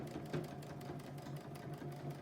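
A sewing machine runs steadily and close while a child sews a tote bag, its rapid even needle chatter continuing throughout with no talking.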